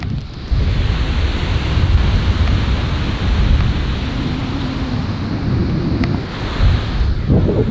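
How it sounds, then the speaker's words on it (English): Ocean surf washes steadily onto a beach along a coast with abandoned ships, with heavy wind buffeting the microphone throughout and no voices. "we're right by the beach"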